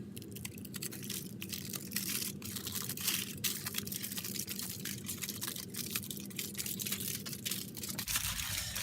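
A large sheet of aluminium foil is unfolded and crinkled close by, giving dense, continuous crackling and rustling with sharp bursts throughout, then a brief lull near the end.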